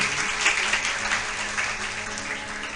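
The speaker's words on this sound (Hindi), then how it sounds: "जोरदार तालियां बजाइए इनके लिए।" Steady audience applause at a religious katha discourse, a dense wash of clapping from a crowd heard close and even for a few seconds with no talk over it.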